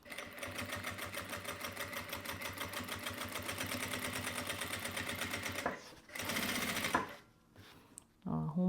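A sewing machine stitches fabric in fast, regular mechanical bursts for several seconds close by, then stops and restarts briefly, followed by a few handling clicks.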